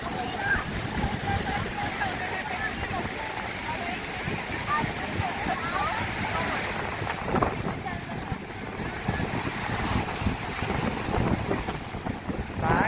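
Strong wind buffets the microphone over crashing waves at Worli sea face in Mumbai during heavy rain, a loud, continuous roar of surf and gusts with voices talking briefly underneath.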